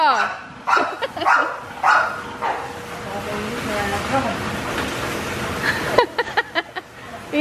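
A dog barks in short bursts, a few loud yaps at the start and a quick cluster near the end, with people talking in between.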